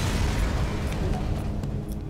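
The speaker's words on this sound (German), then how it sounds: "Das Schiff explodiert" Spaceship explosion in the game Faster Than Light, a rumbling burst with a noisy, crackling body that rolls on and slowly thins out.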